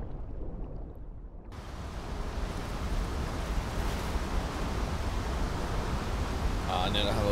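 A waterfall in the dinosaur survival game The Isle: Evrima roars as a broad steady rush that swells in after a quieter start and stays loud and continuous, with a few faint tonal blips near the end.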